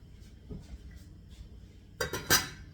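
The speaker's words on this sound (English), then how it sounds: "let me get a lid on" A lid set onto a cooking pot holding chicken and rice, a couple of loud metallic clanks and clatters near the end, after a few faint taps and knocks, close by with no talking.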